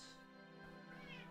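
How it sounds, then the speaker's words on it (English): A house cat meows a couple of times at close range, quiet cries drifting over a steady bed of game music with no talk. "the cat woke up"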